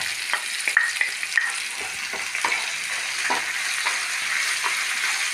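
Curry leaves with crushed black pepper and fennel sizzle steadily in hot oil for okra thoran, with a spoon scraping and stirring the pan in sharp bursts over a constant frying hiss.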